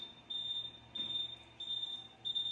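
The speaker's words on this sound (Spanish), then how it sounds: "y suena una alarma" A laparoscopic insufflator alarm beeps because its gas has run out or the valve is closed. It gives a steady high-pitched electronic tone in repeated long pulses, faint and alone.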